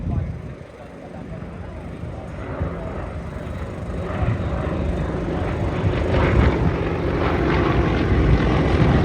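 Yak aircraft taxi back along runway 28 at the Headcorn International Airshow. Their propeller engines make a broad, droning rumble that grows gradually louder and nearer across the stretch.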